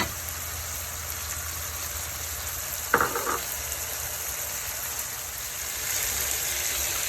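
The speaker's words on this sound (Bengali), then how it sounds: "চিংড়ি মাছটি ভালো মতো কষিয়ে সমস্ত ভেজিটেবলগুলো দিয়ে দিব" Shrimp and vegetables fry in a pan with a steady, even sizzle, broken once by a short clattering stir about midway, and no one speaks.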